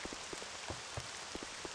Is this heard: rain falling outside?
yes